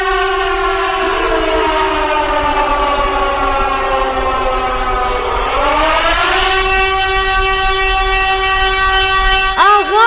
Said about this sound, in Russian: Это точно звук Сиреноголового.